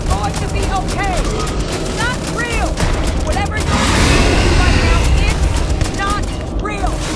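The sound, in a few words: gunfire in Starfield video game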